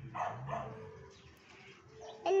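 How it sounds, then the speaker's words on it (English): A dog barks a few times, faint and somewhat distant, with a couple of short bursts near the start and quieter sounds after. "Right, you heard dog"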